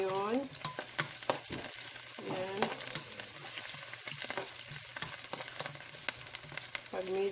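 Chopped onion frying in a hot pan, the first step of a Coca-Cola chicken wings dish, with a steady sizzle and bursts of stirring under a person speaking Filipino.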